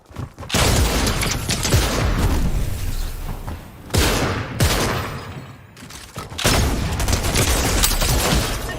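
Loud, heavy bursts of gunfire from the video game Fortnite, with shotgun fire among them, come in long dense volleys separated by brief gaps, booming and close.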